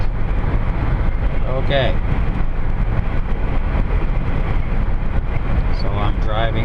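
A car cruising on a highway gives a constant loud road and wind rumble while a driver talks over it.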